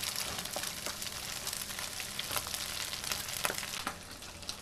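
Egg fries to a half-set in a hot pan for garlic chicken noodles, a dense continuous sizzle with frequent sharp crackles and pops throughout.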